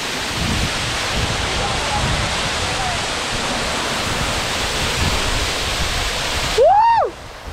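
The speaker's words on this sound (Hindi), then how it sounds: "मैं अभी फिलहाल झरने के बिल्कुल पास पहुंच चुका हूँ" Loud, steady roar of Birthi waterfall in the Himalayas heard from very close, a broad continuous rush of falling water, with a brief rising whistle-like sound near the end.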